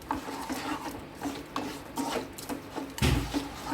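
Coconut mint chutney being stirred into its tempering in a pan, with repeated soft scraping and rubbing strokes, close and steady, and a louder clatter near the end.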